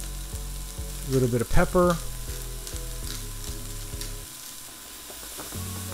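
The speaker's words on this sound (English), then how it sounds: "Now we add our onions to that same oil that the beef was seared in." Onions frying in the oil left from searing beef for a stew, a loud steady sizzle with stirring clinks and a spoon tapping the pot, while a person speaks briefly.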